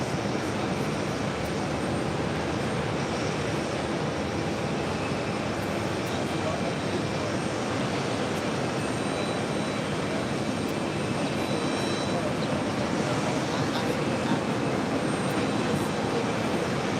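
A Condor airliner in green striped livery arriving from Dusseldorf at JFK, its broad engine roar steady and loud for the whole stretch, with voices talking faintly underneath.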